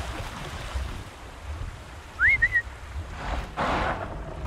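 A character in the video game Horizon Zero Dawn whistles one short, rising-then-level note over soft wind and water ambience, followed by a brief rush of noise.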